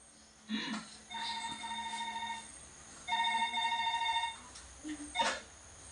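A telephone rings in two long electronic bursts, fairly clear against a quiet background, with a few soft knocks around them.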